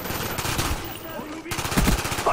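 Enfield rifle fire in Call of Duty Black Ops comes in rapid automatic bursts, a steady loud rattle that breaks briefly and then resumes, layered with other game sounds.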